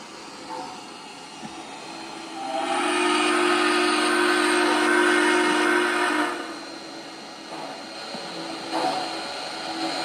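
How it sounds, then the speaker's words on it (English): MTH model train of BNSF steam locomotive 4449 with Proto-Sound audio runs past, a steady rolling rumble swelling as a sustained whistle sounds for several seconds, then easing off with a brief second toot. "Here comes the train. 4449's on the point."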